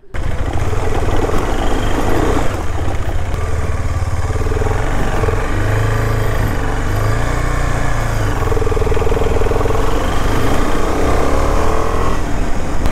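A Yezdi Adventure motorcycle engine runs loud and close, a steady rumbling drone with slight swells throughout.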